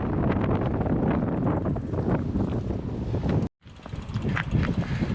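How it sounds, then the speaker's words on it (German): Strong wind roars and buffets the microphone on Mont Ventoux during a cycling tour, a loud continuous rumble that briefly cuts out before gusting back in. "aber es windet im Moment so stark"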